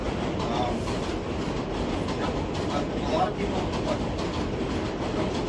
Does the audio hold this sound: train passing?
yes